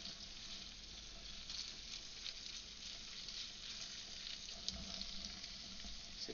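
Meat and onion sizzling in a frying pan, a faint, steady crackling hiss with small pops, no talking over it.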